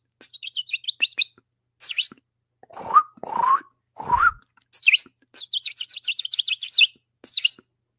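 Bird chirps and tweets come in quick bursts of high, close calls with brief pauses, alone and clear, mixed with a few lower whistled notes.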